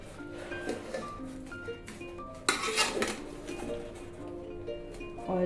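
A spoon scrapes and clinks against a metal pot while beef nalli biryani is stirred, with repeated metallic knocks and one louder clatter midway.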